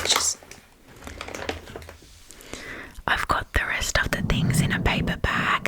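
A paper bag crinkles and rustles loudly and close by in irregular bursts, following a stretch of soft whispered speech.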